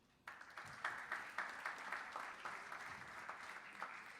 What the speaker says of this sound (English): So a round of applause to all our supporters for this championship.